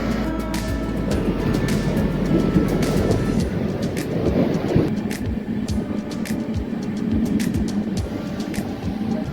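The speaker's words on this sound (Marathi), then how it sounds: "आज आपल्या गाडीला पुणे शेडचं WAT7 लोकोमोटिव्ह लीड करत आहे" The Siddheshwar Express, hauled by a Pune-shed WAP7 electric locomotive, makes a loud, steady rumble of running wheels with rapid rail clacks and rattles over the full span, heard from on board at night.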